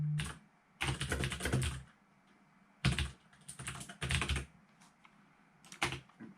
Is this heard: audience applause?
no